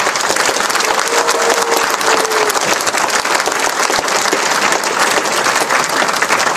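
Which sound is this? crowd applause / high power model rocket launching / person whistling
crowd applause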